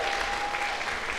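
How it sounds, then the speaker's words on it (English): Audience at a teachers' convention applauding, a dense, steady wash of clapping from many hands that fills the whole short moment at an even level. "Give them a round of applause"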